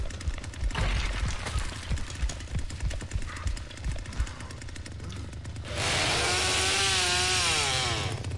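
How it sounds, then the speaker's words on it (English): A chainsaw in the Texas Chain Saw Massacre video game chatters and sputters through rough cutting noise, then roars into a loud sustained rev with rising and falling pitch. "Wouldn't let me fucking thrust the chainsaw"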